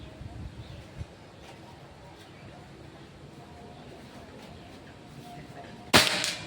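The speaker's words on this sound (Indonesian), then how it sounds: "Tembakan pertama di sini juga ya." A Predator Pajero Gen 6 air gun fires a single sharp, loud shot near the end of an accuracy test, following a stretch of quiet background with faint small knocks.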